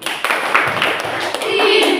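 A classroom group joins in a short thank-you clap, a quick burst of clapping and taps that builds into a denser patter, near and fairly loud.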